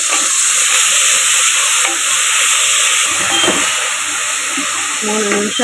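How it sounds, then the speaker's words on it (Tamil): Onions, tomatoes and coriander sautéing in a pan for a mutton and seppa kilangu kara kuzhambu, a loud, steady sizzle and hiss with occasional stirring scrapes, no voices. "ஒரு 3 நிமிஷம் வதக்கட்டும்."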